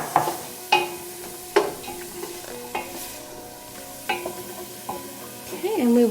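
Celery and onions cook in a soup pot for sunchoke soup. A spoon gives intermittent clinks and scrapes against the pot over a faint, low sizzle.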